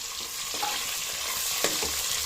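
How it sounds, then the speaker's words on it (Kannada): Onions fry in oil for mutton biryani with an even, close sizzle and a couple of quick stirring scrapes, briefly and without any voices. "ಇವಾಗ ನಾನು ಈರುಳ್ಳಿ ಕೂಡ ಹಾಕ್ತಾ ಇದ್ದೀನಿ"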